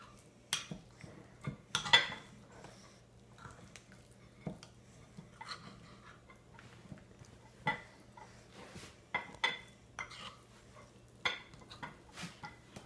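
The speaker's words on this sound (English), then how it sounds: "Now stir it all together until it's nice and combined." A spoon works through purple mashed potato and milk in a pot, making quiet scattered clinks and scrapes against the metal with soft thick stirring sounds in between and no talking.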